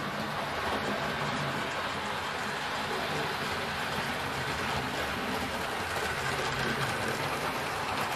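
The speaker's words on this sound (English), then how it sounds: "Well, I think we've got a nice train running around here." A Hornby model train pulling BR MK1 coaches runs steadily around the track, a continuous close rolling rumble and faint clicking rhythm without a break.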